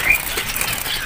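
Green leafbird from East Java fluttering its wings in a cage at a bird market, a brief, close, papery flapping burst over a steady noisy background.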